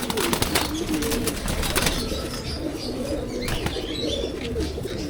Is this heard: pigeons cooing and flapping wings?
yes